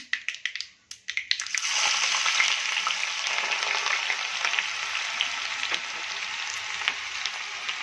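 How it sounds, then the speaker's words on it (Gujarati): Cumin and mustard seeds crackle in hot oil with a few sharp pops, then chopped onion goes in and a loud, steady sizzle takes over and slowly settles, with scattered crackles throughout. "જીરું અને રાઈ સારી રીતે ચટકી ગઈ છે. હવે આપણે આમાં ડુંગળી એડ કરીશું."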